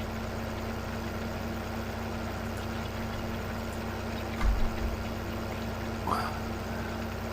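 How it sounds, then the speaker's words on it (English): An articulated tractor in a farming game idles with a steady, low engine hum throughout, with a couple of brief clunks over it and no talk. "the joys of using an articulated tractor with course play"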